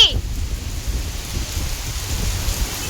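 Rain pours steadily through a downpour, a dense, even hiss with low rumbling beneath it and no voices.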